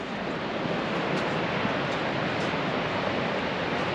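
Water thunders over the Rhine Falls in a dense, continuous roar, loud and close, with occasional wind buffeting the microphone.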